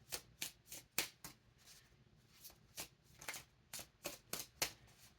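Cards being riffled and bridged in repeated quick bursts, crisp flutters separated by short pauses, close to the listener.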